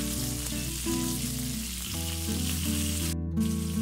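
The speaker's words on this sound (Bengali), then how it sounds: "মাছের পিসগুলো বাদামি করে ভেজে নেব" Rui fish pieces sizzle in hot oil with a loud, continuous crackling fry close up, while a low steady tonal hum runs beneath it and no one speaks.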